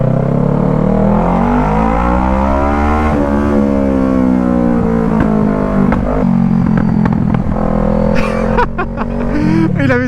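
A 2012 Kawasaki ER6N motorcycle engine running close and loud, with a continuous droning tone whose pitch climbs, dips and climbs again as the revs change.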